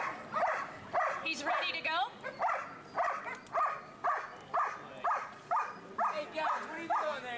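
A therapy dog at a K9 protection demonstration gives a run of about a dozen rhythmic, close barks and yips. Someone speaks briefly among them.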